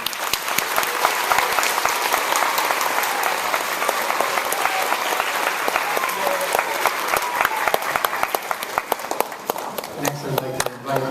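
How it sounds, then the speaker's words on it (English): Loud, dense applause from a school audience at a student late-night show, sustained clapping and crowd noise that thins toward the end as voices begin to come through. "So how about a nice round of applause?"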